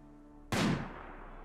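A single heavy Inferno Cannon blast in RimWorld, a sharp loud boom that decays into a rumbling tail over a low steady hum.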